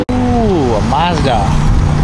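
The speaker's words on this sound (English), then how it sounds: "Ooh, a Mazda." A Mazda RX-7 passing on a city street, its engine note close and loud, rising and falling as it goes by, with voices talking over it.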